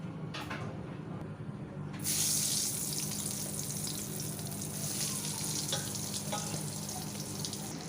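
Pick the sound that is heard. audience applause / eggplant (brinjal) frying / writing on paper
eggplant (brinjal) frying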